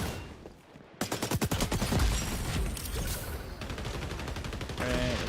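Automatic gunfire in the shooter xDefiant rattles off in a rapid, steady burst from about one second on, loud and close, with a short pause before the firing resumes near the end.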